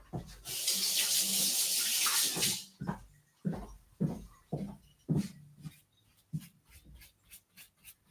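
A kitchen tap runs loudly for about two seconds as water is drawn for brushing onto brioche dough, followed by a series of soft, irregular dabbing and knocking sounds.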